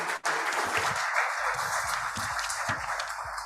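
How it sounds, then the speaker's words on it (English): Audience applause at the BW Future of Design Summit and Awards 2023 ceremony, a full, sustained round of clapping from a crowd, with low thumps and a brief dropout near the start. "a loud round of applause"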